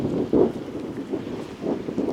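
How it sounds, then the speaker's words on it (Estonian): Wind gusting across an icy, frozen lake on a cold, open tundra plateau in Norway, a steady low rush with a few stronger buffets against the microphone, heard alone without talk. "Tuul puhub ja"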